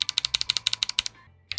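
Bare mechanical switches on a rhythm-game keyboard with no keycaps are typed in a fast, even run of sharp, close clicks, about fifteen strokes, then a pause before one more.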